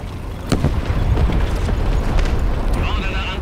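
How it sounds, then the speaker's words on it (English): Tank cannon fire from War Thunder, a cannon duel between German top-tier tanks, opens with a sharp loud boom followed by rumbling echoes and distant thuds under steady battlefield noise, while a voice talks. "have an artillery duel back here. Well, cannon fight duel"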